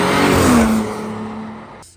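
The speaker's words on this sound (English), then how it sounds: "standing outside the car, and I'm gonna drive by." An Audi Q7 with a custom intake roars past up close, its engine note rising then falling away as it recedes, fading quickly at the end.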